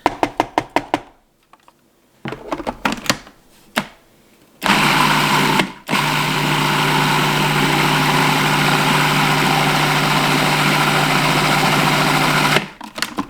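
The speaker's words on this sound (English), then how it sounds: "scrape the sides down a couple of times to make sure everything is evenly getting mixed and chopped" A food processor runs steadily for several seconds, chopping and mixing kimchi ingredients, after a few short bursts and pauses at the start; the motor whir is loud and continuous before cutting off.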